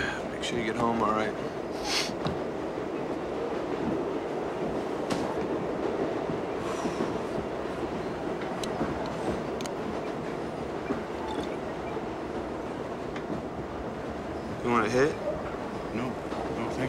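A moving train rolls along its rails with a constant loud rumble and clatter and occasional squeals and rattles, while voices talk over it.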